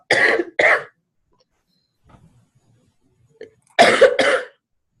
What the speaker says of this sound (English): I'm having a coughing fit.